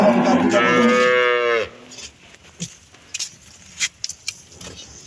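A young two-tooth Holstein Friesian cow lets out one loud, drawn-out moo close by, followed by quiet scattered clicks and rustling.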